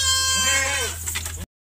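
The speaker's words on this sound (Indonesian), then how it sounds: "Ini kambing ini kayak kambing Bu Lilis." Goats bought from a farmer bleat in a pen, a single wavering, nasal cry rising and falling over a low steady hum, close and fairly loud before cutting off abruptly.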